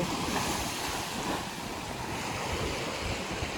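Steady surf washing onto a Maldives shore, a continuous broadband roar of breaking sea waves with some wind buffeting the microphone, no voices.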